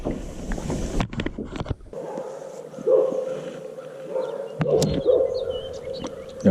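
Dogs bark and whimper at a lakeside during an April bass bed-fishing trip on Cedar Lake, a few short yips and barks popping over a steady boat motor hum with water noise.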